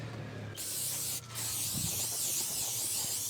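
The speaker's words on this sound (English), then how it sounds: "Kind of spray off the residue." Water sprays in a steady, loud hiss across a 1967 Ford truck, rinsing residue off the paint, with a brief break just past the first second before the continuous spray resumes.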